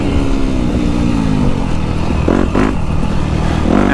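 A 2022 Yamaha YZ250F dirt bike engine runs loud and close, a steady buzzing drone with brief revving surges and clatter throughout.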